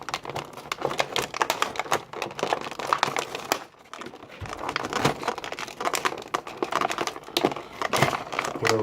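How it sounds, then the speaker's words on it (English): Plastic packaging crinkles and crackles as a Marvel Legends Thunderbolts action figure is worked free of its package, with dense close handling noises and a brief lull midway. "Take each figure out of the package."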